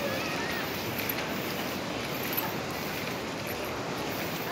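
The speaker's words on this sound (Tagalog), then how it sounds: "Dito kami sa mabatong side" Sea waves wash against a rocky tidal pool shore in Casiguran as a continuous broadband surf hiss with light wind, steady and moderately distant, with no voices.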